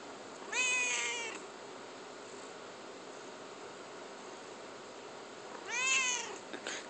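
A domestic cat meows twice in the morning, each call long and drawn out, about five seconds apart, heard alone over a steady background hiss.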